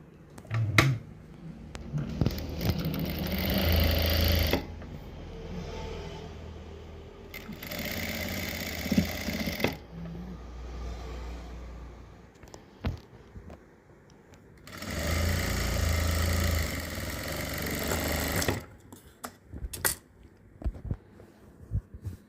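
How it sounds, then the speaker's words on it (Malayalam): A sewing machine stitches a folded fabric hem on cigarette pants, running in several loud, steady bursts separated by pauses with small clicks and handling noises. "ഇവിടെ നമ്മളൊന്ന് മടക്കി സ്റ്റിച്ച് ചെയ്ത് കൊടുക്കാം."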